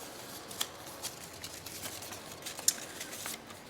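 Scissors snipping down the middle of folded junk mail paper to make a mini booklet, heard as a series of soft, crisp cuts and light paper rustles, close and fairly quiet with no talking.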